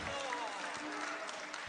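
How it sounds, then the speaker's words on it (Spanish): A church congregation claps in sustained, dense applause at a Spanish-language evangelical preaching service, heard at a distance and somewhat faint. "Den un aplauso al Señor Jesucristo."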